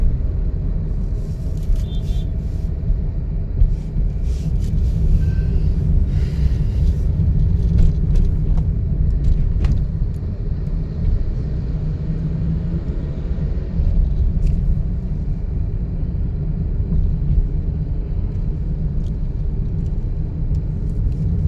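A car's engine hums at a steady, continuous rumble while driving during a driving lesson, with the clutch released as it shifts into second gear; no distinct gear-change clunk stands out.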